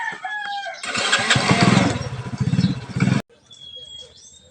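A motorcycle engine revs loudly and close for a couple of seconds, then cuts off, leaving quieter outdoor background sounds in a rural Philippine setting.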